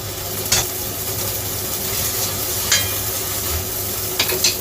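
Vermicelli frying and being stirred in a hot, lightly oiled pot, a steady sizzling hiss broken by a few soft scraping clinks, heard close with no talking.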